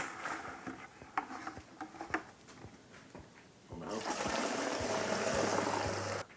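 Sanitizer sloshing and rushing inside a plastic home-brew beer fermenter as it is shaken, beginning with scattered knocks and then swelling into a loud continuous swirl of liquid.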